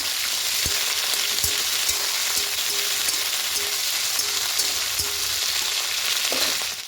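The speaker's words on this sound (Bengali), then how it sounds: "ফুলকপি দিয়ে হালকা নাড়া করে দিয়ে দেবো।" Cauliflower stir-frying in a pan for a vegetarian cauliflower-potato posto dish, with a loud, continuous hissing sizzle and occasional spatula knocks against the pan, heard alone.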